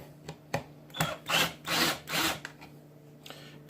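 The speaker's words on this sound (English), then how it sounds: "First things first, we take the screws out." Power drill backing screws out of a dust collection pipe, several short buzzing bursts of the motor with a rasping, grinding texture, close and fairly loud, separated by brief pauses and light handling clicks.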